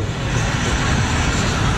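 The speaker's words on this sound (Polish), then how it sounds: "a przed Państwem kołują biało-czerwone iskry." Biało-Czerwone Iskry team jets taxiing at the 2015 Radom-Sadków air show, a steady loud broadband engine roar with a low rumble that holds constant throughout, no voices over it.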